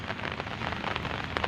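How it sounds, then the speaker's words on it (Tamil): Heavy rain pours down in a village outside a house, a dense, continuous patter of drops striking the ground and nearby surfaces, loud and close, with no voices. "இப்போ எங்கள் ஊரில் வந்து அடித்து கொளுத்திருக்கு மழை"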